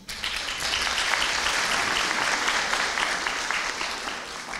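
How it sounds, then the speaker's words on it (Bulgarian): Sustained audience applause at a university graduation ceremony, following a waltz performance by ballet school dancers; dense, even clapping fills the whole stretch at steady loudness with no voices. "Аплодисменти!"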